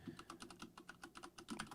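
Rapid clatter of keys on a computer keyboard in a home live-stream setup, an uneven run of close, crisp taps with a few heavier strikes, no voices.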